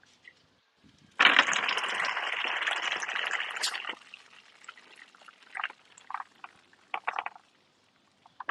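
Fried groundnuts sieved out of hot garri, a dense sandy rushing pour for about three seconds, then scattered small rattles and scrapes, close and moderately quiet.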